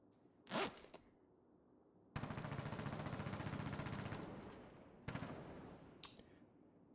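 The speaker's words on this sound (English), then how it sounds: "Yeah, someone is shooting" Gunfire from someone shooting in Project Zomboid: a couple of faint sharp shots, then a long, steady rattling burst for about two seconds, then a shorter burst and a few more isolated cracks, quiet and distant.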